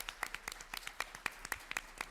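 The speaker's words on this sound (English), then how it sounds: "Can we have a nice round of applause for our ad?" Light applause at a family law branding panel: a small group claps in a sparse, uneven patter of distinct hand claps, fairly quiet and brief.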